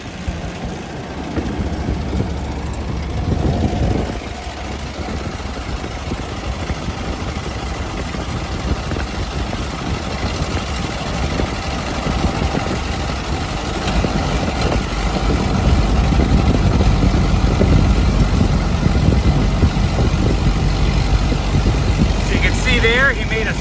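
A 1925 Ford Model TT fire engine runs as it climbs a hill, its loud, steady low engine rumble growing heavier and louder toward the end.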